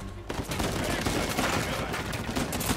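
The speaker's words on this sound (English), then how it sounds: "Shooting him with a shotgun, I love it" Rapid, loud shotgun blasts from a video game shooter, a dense run of overlapping gunfire bursts following a brief quiet start, with game sounds layered underneath.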